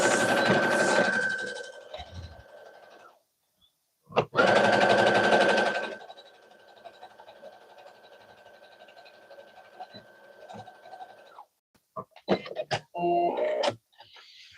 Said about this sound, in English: This is just a very simple straight stitch.